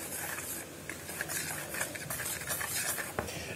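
Kouglof dough is mixed by hand with a utensil in a bowl, giving faint, close scraping and clinking strokes in an uneven rhythm, with no talk over them.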